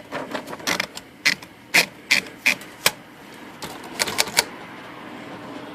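Type bars of a Hermes typewriter striking a sheet of paper in a sharp burst of about a dozen close, crisp clacks, uneven in rhythm, followed by softer mechanical rattles.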